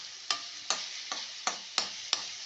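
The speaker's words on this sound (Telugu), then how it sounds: "అందుకే నేను మధ్య మధ్యలో కలుపుతూనే ఉంటాను" A spatula stirs masala dosa potato filling in a pan, six evenly spaced scraping strokes over a faint steady sizzle, close and fairly quiet.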